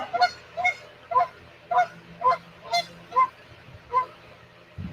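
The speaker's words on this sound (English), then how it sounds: "Y'all hear that goose?" A goose honks repeatedly outdoors, about eight loud, nasal calls in a steady rhythm roughly half a second apart, close by and alone.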